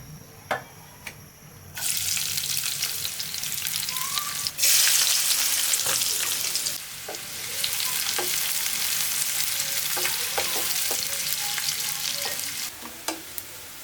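Vegetables and egg frying in oil in two pans, a steady close sizzle that swells louder after the first seconds, with scattered clicks and scraping stir sounds throughout.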